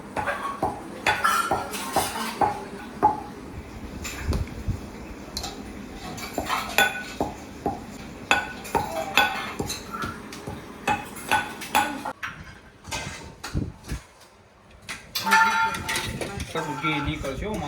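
Metal utensils and pots clank and clatter in a home kitchen where sweets are being made, irregular close knocks and scrapes coming in bursts, with voices talking intermittently between them.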